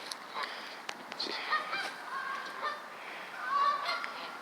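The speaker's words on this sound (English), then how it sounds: "I came across some lovely Canadian geese here" Canada geese in a Boston flock honk repeatedly nearby, short nasal calls scattered over quiet outdoor background noise.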